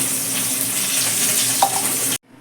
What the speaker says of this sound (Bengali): এবার ওই মাছ ভাজা তেলের মধ্যেই আমি প্রথমে দুটো তেজপাতা দিয়ে দিলাম